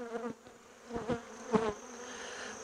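Honey bees buzz over hive frames during a winter frame arrangement, a faint, steady hum with a few louder bursts close by.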